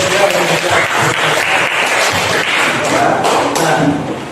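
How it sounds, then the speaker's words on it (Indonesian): Classroom clapping for a student group, a dense burst of many hands applauding together at close range for several seconds, with some voices mixed in before it tapers off. "Tepuk tangan untuk kelompok 1."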